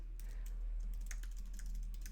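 Computer keyboard keys tapped for a shortcut to create a new project: a short run of light, close clicks over a steady low hum, with no speech.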